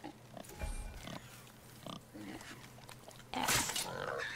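Wild boar grunting in God of War (2018), a few low snorting grunts close by amid game sounds, with a louder rough burst near the end and voices speaking over parts of it.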